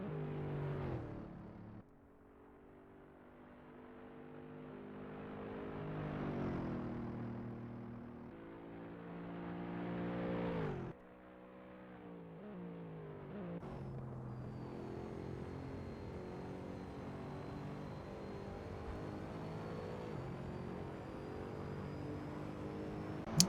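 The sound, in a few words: race cars driving laps at Silverstone in racing video game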